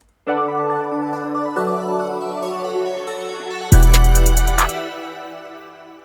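A melodic pluggnb beat bridge of layered synth chords that swells, then a heavy bass hit with rapid stuttering bright pulses builds toward a drop.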